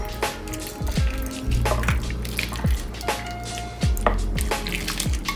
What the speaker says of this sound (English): I'm just gonna take the sauce and I'm just gonna pour it directly over